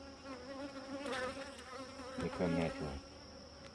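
A steady drone of honeybees around a hive fills the moment, close and continuous, with someone briefly speaking over it.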